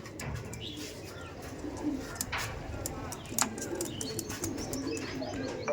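Andhra pigeons coo in low, throaty bursts nearby, mixed with scattered chirps and sharp clicks in a busy loft.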